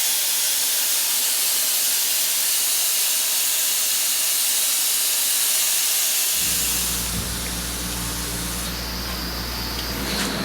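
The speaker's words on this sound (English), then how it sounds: "We're just about to go ahead and blast it." Sandblasting a scrap of granite countertop produces a loud, continuous hiss of spraying abrasive for several seconds, then the tone shifts midway as a low compressor or fan hum joins the steady spray.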